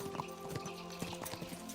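Horse hooves clip-clop in Kingdom Come: Deliverance 2, a quick, close series of hoof strikes over a sustained droning background.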